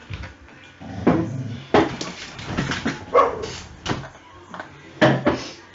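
A dog inside a house gives a string of loud, close barks at irregular intervals, mixed with thuds that sound like doors or cupboards, with no talking.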